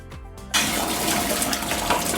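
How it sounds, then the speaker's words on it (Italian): Tap water gushes suddenly into a pot being filled for pasta in a home kitchen, a steady close splashing rush that starts abruptly and continues to the end. "Adesso mettiamo a fare l'acqua per la pasta."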